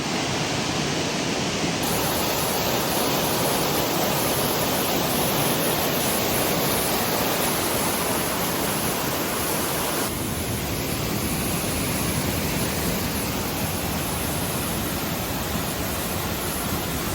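Creek water in secluded hinterland bush running into a pool: a loud, dense, unbroken rush of falling and churning water, constant throughout with no voices.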